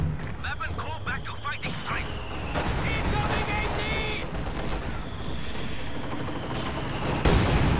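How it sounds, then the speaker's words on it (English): Heavy mortars fire in a Company of Heroes 2 battle, low booming blasts and scattered gunfire rolling through a dense wartime soundscape while a commentator talks over the action. "Heavy mortar firing"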